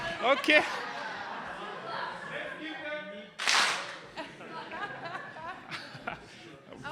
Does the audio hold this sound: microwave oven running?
no